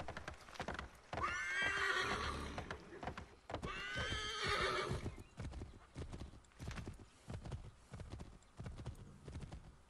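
A horse gallops in Assassin's Creed III with a fast, steady clip-clop of hooves, with two loud whinnies rising over the rhythm early on.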